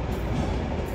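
A special train rumbles steadily nearby, arriving on platform 2 at Stockport station, a continuous low mechanical roar with no breaks, as it rolls slowly along.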